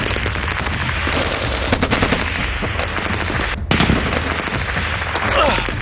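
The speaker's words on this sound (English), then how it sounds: "As soon as the gunfire opened up" Gunfire erupts in an ambush in Helmand, Afghanistan, with rapid automatic bursts and sharp shots rattling close and loud, dense and continuous, layered over heavy background noise.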